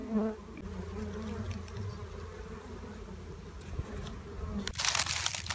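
Dwarf honey bees swarm and buzz steadily at their nest in overgrown woodland, a continuous close drone with a sharp rustling burst near the end.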